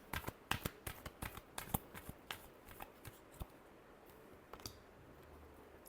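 Tarot cards are shuffled by hand in a quick run of crisp, close riffling snaps, denser early and thinning out later, quiet overall with no voices.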